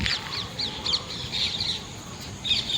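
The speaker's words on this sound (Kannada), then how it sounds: "ಇದು ಅದು ಯಾವುದೋ ಪಕ್ಷಿ ನೋಡಿ ಗೈಸ್, ಹೆಂಗೆ ಸೌಂಡ್ ಮಾಡ್ತೈತೆ." A bird calls repeatedly near a village home in the evening, with bright chirping and cawing phrases recurring throughout, fairly close and clear over a low rustling background.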